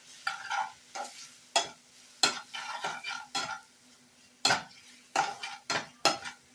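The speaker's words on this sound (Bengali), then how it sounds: "দিয়ে সব মশলাগুলোকে আমি ভালো করে কষিয়ে নেব।" Spices sautéed with ridge gourd in a pan: a spoon scrapes and stirs in irregular bursts, each a short scratchy sweep over a faint background sizzle, with brief pauses between strokes.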